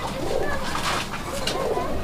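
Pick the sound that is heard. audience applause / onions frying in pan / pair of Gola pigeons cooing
pair of Gola pigeons cooing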